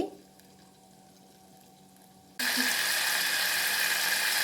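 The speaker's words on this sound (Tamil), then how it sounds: "எண்ணெய் சூடேறிடுச்சு க்ளீன் பண்ணி வச்ச கருவாட்டை அதில் போட்டு பொரித்து எடுத்துடலாம்" Cleaned dried fish drop into hot oil in a village kitchen. After a quiet moment, a sudden loud, steady hiss of frying bursts in and keeps going evenly to the end.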